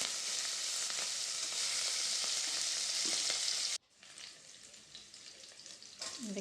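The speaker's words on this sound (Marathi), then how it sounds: "त्यानंतर ठेचलेला लसूण, मिरची, परतून घेऊया." Crushed garlic and green chillies fry in a pan with a loud, steady sizzle that cuts off abruptly partway through, leaving a quieter, patchier crackle.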